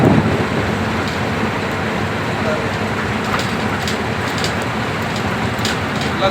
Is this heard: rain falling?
yes